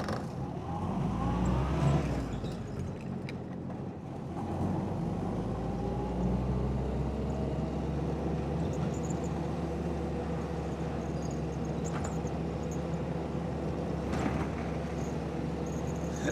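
A Willys Jeep drives along a coast road, its engine a steady moderate drone with some rising pitch early on and road and wind noise throughout, heard from inside the vehicle.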